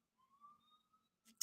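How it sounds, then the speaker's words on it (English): A faint, distant emergency-vehicle siren on a New York street holds a steady wailing tone for about a second before brief louder noise bursts at the end. "sorry for the sirens."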